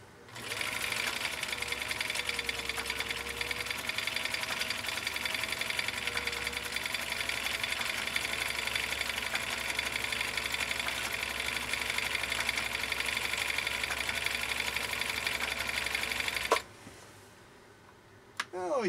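A Brother sewing machine runs stitch number three in a steady, continuous whirring buzz close by for about sixteen seconds, then stops abruptly, followed by a few faint clicks.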